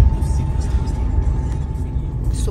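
A car rolls slowly along a city street, giving a steady low road rumble with a faint hum, while voices talk over it throughout.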